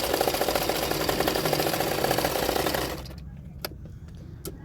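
A sewing machine stitching a double katori blouse belt runs in a loud, steady whir for about three seconds, then stops, leaving a few faint clicks.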